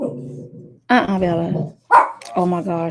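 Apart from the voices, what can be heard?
dogs barking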